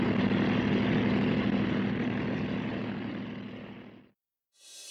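Yak-12 light propeller airplane in flight, a steady loud droning engine and propeller roar heard close and continuous, fading out before a brief cut.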